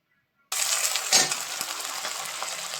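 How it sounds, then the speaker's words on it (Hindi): Finely chopped onion and green chillies hit a hot pan with a sudden loud, steady sizzle after a brief silence, with a faint stirring scrape partway through. "तो इन सबको बारीक बारीक काट के और फिर अच्छे से फ्राई कर लेती हूँ"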